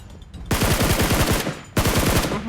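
Rapid automatic gunfire from PUBG Mobile on an iPhone 14 Pro Max, two loud sustained bursts of quick repeated shots separated by a brief pause, with no talking.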